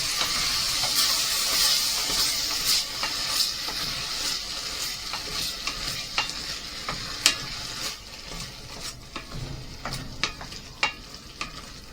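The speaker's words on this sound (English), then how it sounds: "And give it all a good stir together." Ingredients for a Moroccan wild rabbit tagine are stirred in a hot pan, with steady sizzling frying and scraping spoon strokes that land as sharp clicks and knocks, loud and close with no talking.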